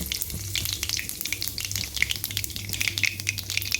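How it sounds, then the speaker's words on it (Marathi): Mustard seeds and cumin sizzle and pop in hot oil, a dense, close crackling with sharp spits throughout, with no voices. "तेल छानपैकी तापलेलं आहे मोहरी घालूयात त्यानंतर जिरे"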